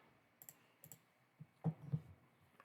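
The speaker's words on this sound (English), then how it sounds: "let me go ahead and click on that" Several quiet, sharp clicks from a computer mouse or keyboard at a desk, spaced irregularly with a slightly louder cluster near the end.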